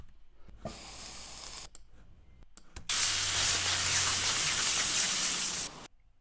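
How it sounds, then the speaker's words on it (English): A loud, steady hiss like meat frying in a hot pan, a designed frying-meat sound effect, after a quieter crackling start, holding for a few seconds before cutting off. "Maybe like a frying sound, frying meat."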